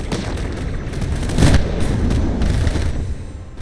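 Missiles intercepted and bursting in the video game Skybound Arena: a dense rumble of booms with one sharp, heavy blast in the middle, followed by scattered smaller explosions.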